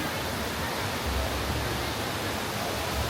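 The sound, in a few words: waterfall near old hydroelectric plant in Sapa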